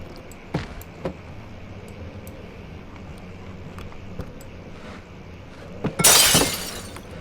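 Glass shatters loudly near the end in the horror video game Amnesia, a sharp bright burst after several seconds of quiet ambience with faint thuds.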